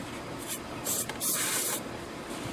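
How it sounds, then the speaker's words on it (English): Carburetor cleaner hisses from an aerosol can onto the outside of a 6.0 Powerstroke diesel engine in short, close bursts, the longest lasting about half a second, between quieter stretches. "That's this carburetor cleaner"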